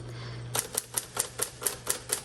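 Someone types on a 1958 Smith Corona electric typewriter. A low electric hum runs first, then about eight crisp, evenly spaced key strikes follow close together, heard clearly with no talk.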